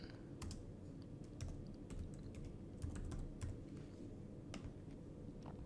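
Typing a search query on a computer keyboard, scattered light key clicks in short irregular bursts over a steady low hum, close and fairly quiet, with no voices.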